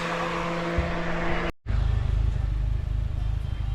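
A Honda Civic Type R rolls onto a dyno, its engine rumbling low and close. The sound breaks off for a moment, then returns as a steady idle-like drone.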